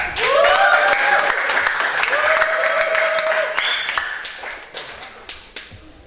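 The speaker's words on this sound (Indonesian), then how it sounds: "kita aplaus, tepuk tangan buat Kang Badra." An audience at a religious youth gathering for the Islamic new year claps together, a dense burst of applause that fades out over several seconds while voices call out over it.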